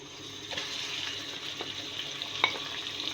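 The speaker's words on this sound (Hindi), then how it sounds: "और अब मैं इसमें डालती हूँ कीमा।" Minced beef, added to browned onions in a home kitchen pan for a capsicum keema, sizzles quietly and steadily, with a few soft stirring scrapes and clinks over the low hiss.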